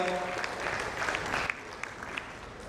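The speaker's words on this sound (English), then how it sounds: "A big round of applause to Mr. Pandita." An audience applauds a panel moderator at a customer experience panel session, with steady, fairly soft clapping that fills the clip with no talk over it.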